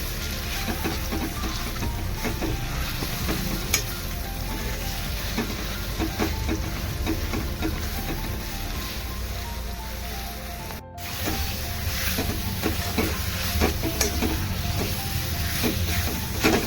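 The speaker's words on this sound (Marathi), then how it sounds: "आपण आता हा तुपावर परतूया." A ground mixture of figs, dried dates and raisins sizzles and is stirred in ghee for ragi ladoos, with a steady close frying crackle and scraping strokes throughout.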